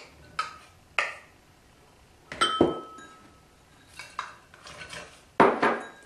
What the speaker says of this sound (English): take all of your fruit and your nuts. You're just gonna combine this all together.